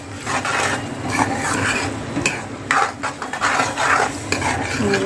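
Schezwan chutney mixed into vegetable fried rice in a hot pan: continuous scraping and clattering stir strokes over a soft sizzle, close and fairly loud, with no talking.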